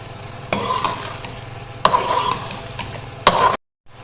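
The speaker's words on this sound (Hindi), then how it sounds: "मसाले को अच्छे से भून लेंगे" Masala frying with yogurt in a pan for aloo matar chicken, a dense close sizzle with three sharp stirring scrapes, ending abruptly in silence.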